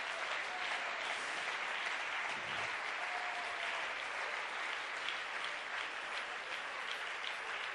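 Steady applause from a church congregation fills the space, a dense, continuous clatter of many hands clapping at even loudness throughout, with no voices rising above it.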